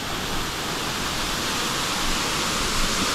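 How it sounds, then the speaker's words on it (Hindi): Baba Waterfall at Amboli Ghat, Kumbwade, pours in a constant, dense rush of falling water, loud and close with no pauses and no voices. "तो this one is the first waterfall"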